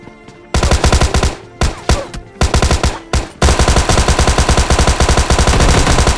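Loud automatic gunfire in the PUBG Mobile Lite shooter game, long rapid bursts broken by short pauses, then a sustained stream of shots at close range.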